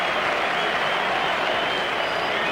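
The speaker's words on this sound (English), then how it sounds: "a pretty thrilled crowd here at the MCG" Cricket crowd at the MCG in Melbourne during a 1982/83 Australia versus New Zealand one-day match, a steady roar of cheering and clapping from a large stadium audience, sustained and even throughout.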